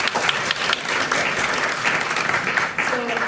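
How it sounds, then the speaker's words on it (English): An audience at a book premiere event for a regenerative landscaping title gives a short, full burst of loud applause that is steady throughout, with no talk over it. "I just want to do another applause for just being here tonight"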